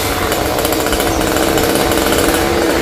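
A chainsaw cuts into a large monkeypod tree with long overhanging branches, a loud, unbroken high-revving roar that stays close and steady throughout, with no voices.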